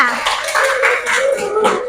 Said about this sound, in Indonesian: Oke, beri tepuk tangan untuk temannya.